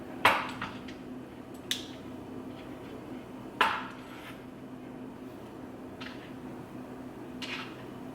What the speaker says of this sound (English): let me just cut these smaller, the cucumber smaller. Eggs, I'm gonna cut.